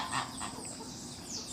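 Dogs bark on a rural farm where chickens are kept, sounding as a few short, mid-distance barks over a steady outdoor background.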